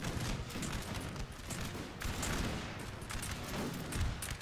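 Musket volleys crackle across a Napoleon Total War battlefield as dense, continuous rolling gunfire, with overlapping shots forming a steady loud roar throughout.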